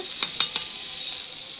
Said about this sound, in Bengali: এটার মধ্যে আপাতত এখন হলুদ আর লবণ দিয়ে ভাজা ভাজা হচ্ছে